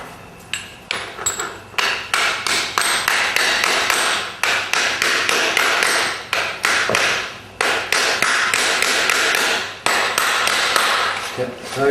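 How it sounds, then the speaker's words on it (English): Steady hammering as a farrier clinches the nails while shoeing a horse, a long run of sharp, close metallic taps in quick rhythm with only brief pauses. "Trim those nails back and then hammer clinch."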